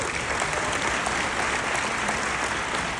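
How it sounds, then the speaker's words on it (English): Conference audience in New Orleans applauding, a dense, even wash of many hands clapping without pause at moderate volume. "So please join me in giving them a round of applause"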